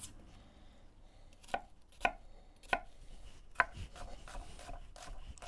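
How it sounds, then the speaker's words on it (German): Onions coarsely chopped with a knife on a board while preparing mole poblano: four sharp, close knife strikes at uneven intervals over a quiet background, with no talking. "Schön grob runterhacken."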